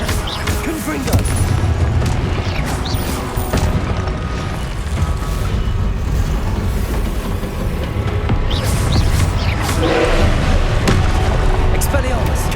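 Confringo blasting-spell explosions from Hogwarts Legacy combat, a dense continuous barrage of booming blasts and crackling impacts under a shouting voice casting spells throughout.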